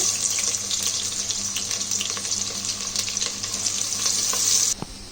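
Onion sizzles and fries in a pan on a kitchen stove, a steady loud hiss that crackles throughout and then cuts off near the end, followed by a short clatter.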